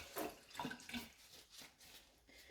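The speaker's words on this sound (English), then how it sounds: "I'll probably take the gloves off now, rinse the gloves." Gloves being rinsed under a running tap after working with etching cream, giving soft irregular splashing and gurgling water that swells and fades, close by and fairly quiet.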